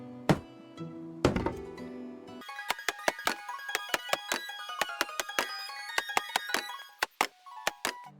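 Wooden logs are chopped in the medieval survival game Medieval Dynasty. A rapid series of hollow thunks and chops lands close and clear over a faint musical tone, with no speech.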